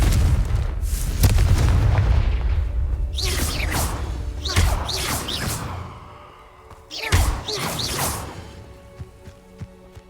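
Confringo fire spells explode in the video game Hogwarts Legacy, with loud, heavy booms and swooshing blasts that roll on for several seconds, followed by a second burst of bangs.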